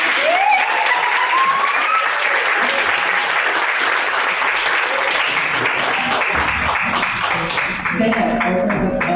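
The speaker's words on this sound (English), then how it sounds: "Can we please give our drummers another round of applause?" Loud, sustained audience applause for drummers at a community conversation event on Alzheimer's in Charlotte, steady clapping throughout with a brief rising whoop or cheer early on.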